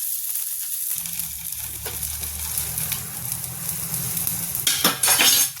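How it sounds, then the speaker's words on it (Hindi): Onion frying in a pan for a masoor dal with spinach gives a close, steady sizzle, with light utensil clinks against the pan near the end and no speech. "अब इसको हम भूनेंगे थोड़ी देर, और भूनने के बाद में इसमें दाल डालेंगे।"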